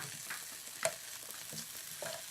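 A Reuben sandwich fries in a pan just after being flipped, with a soft, steady sizzle, a brief scrape or clatter near the middle, and a few faint crackles, heard alone.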